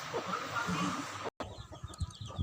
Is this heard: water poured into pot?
no